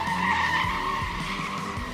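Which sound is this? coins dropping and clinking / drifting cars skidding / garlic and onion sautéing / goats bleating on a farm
drifting cars skidding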